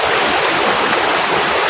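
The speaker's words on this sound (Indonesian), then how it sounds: "ini salah satu anak sungai yang dari bendungan tadi itu dialirkan ke sana untuk warga-warga yang ada di bagian hilirnya" Irrigation water from a dam pours along a small channel near Cugenang, a steady, dense rushing and gurgling that holds evenly throughout without pause.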